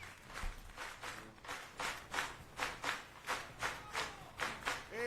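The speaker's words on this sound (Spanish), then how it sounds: "A ver esas palmas" A studio audience claps along in a steady, even rhythm during a radio programme, roughly two claps per second, moderately loud with no talking.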